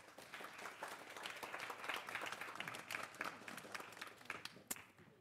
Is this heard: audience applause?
yes